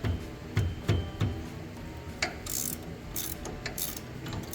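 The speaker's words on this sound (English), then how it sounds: "let's take off the caliper." A ratchet clicks close-up while a brake caliper is removed from a Polaris Ranger, giving short bursts of rapid pawl clicks separated by brief pauses and small metallic knocks.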